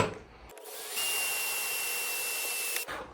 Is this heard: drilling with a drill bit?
yes